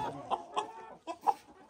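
Chickens clucking close by in a coop in Zambia, a few short soft clucks in quick succession, fairly quiet with no talk.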